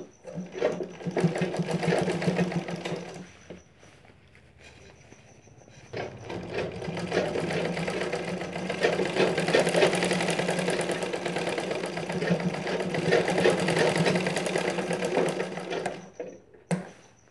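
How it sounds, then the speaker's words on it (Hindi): A sewing machine stitches a blouse seam in loud bursts of fast, rhythmic needle chatter. It stops briefly near the start, then runs again for a long stretch before halting with a few clicks. "पलटाने के बाद अंदर से एक सिलाई हम इसमें लगा लेंगे"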